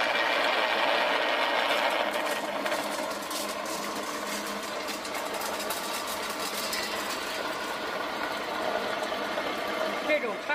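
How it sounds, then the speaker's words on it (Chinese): A small feed granulator with a differential gearbox presses a mix of paper mulberry leaves and corn kernels into pellets, giving a loud, continuous mechanical whir with dense rattling ticks that holds steady throughout. "话不多说，现在我们开机。"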